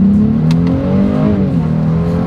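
A 2024 Honda Ridgeline pickup accelerating hard in manual shift mode, loud close engine roar with rising pitch as it revs through the gear.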